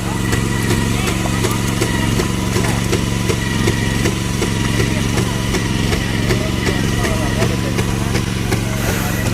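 A rice transplanting machine plants paddy seedlings in a flooded field, its small engine giving a loud, steady, close drone with a regular ticking rhythm that runs without a break for the whole stretch.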